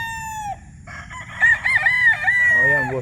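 A Boston stag gamefowl rooster crows loudly and close, one full cock-a-doodle-doo with a rising then drawn-out call, following a brief earlier crow from another bird, over faint farmyard background noise.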